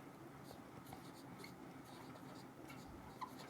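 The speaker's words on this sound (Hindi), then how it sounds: "तो अपन लिखते हैं" Pen scratching across paper in short, soft strokes with a faint, quiet rhythm during a chemistry lesson, close and alone.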